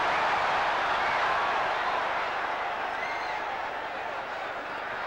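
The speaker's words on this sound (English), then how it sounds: "The crowd loving it." Boxing arena crowd at a Hearns–Hayman fight, a dense, loud wash of cheering and applause that stays steady throughout and eases slightly toward the end.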